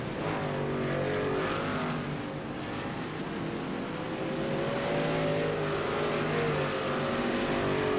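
Race trucks roar together at Daytona in a tight bump draft, loud sustained engine drone with rising and falling pitch as they pass the start-finish line.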